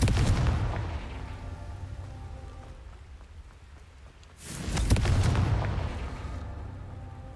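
Two heavy blasts from the Confringo spell in Hogwarts Legacy, the first at the very start and the second midway, each a loud booming burst that rumbles and crackles as it fades.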